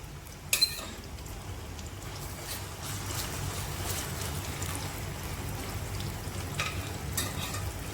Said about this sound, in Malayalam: ചിക്കൻ ഇട്ടിട്ട് ഫ്രൈ ചെയ്തെടുക്കുക